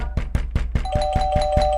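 A doorbell rings insistently alongside rapid, steady knocking on a door, the bell's tone sustaining clearly over the repeated raps.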